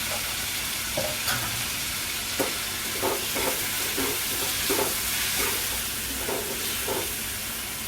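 Tomatoes and onions sauté in a pan for tomato chutney, a steady close sizzle broken by repeated scraping stirs at irregular intervals, with no talking.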